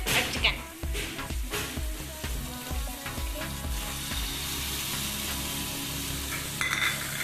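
Chicken hitting a hot pan with vinegar, capsicum and tomato, loud bursts of sizzling and spattering with stirring clatter, settling into a steady fry.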